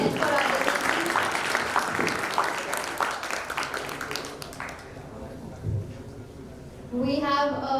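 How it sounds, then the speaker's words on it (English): An audience at a capital market summit technical session gives a sustained round of applause for the guests, a dense wash of clapping that fills the first few seconds and fades, with a voice speaking near the end. "I would like all of you all to please give a round of applause once again for our"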